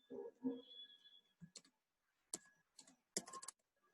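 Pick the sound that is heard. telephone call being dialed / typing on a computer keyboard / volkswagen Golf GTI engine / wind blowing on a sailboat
typing on a computer keyboard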